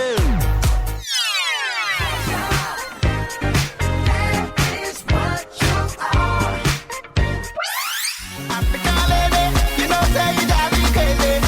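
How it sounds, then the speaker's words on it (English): Storm FM radio station jingle, a loud, punchy burst of produced music with heavy beats, sweeping effects and quick cuts, playing on its own. "I am going to try and play the Storm FM jingle as soon as it loads up into the Storm FM playlist"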